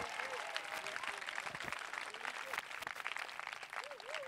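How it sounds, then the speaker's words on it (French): Church congregation applauding Jesus during a Sunday worship service, steady dense clapping throughout, with a voice speaking or singing over it and faint tonal sounds mixed in. "Acclame Jésus ce matin"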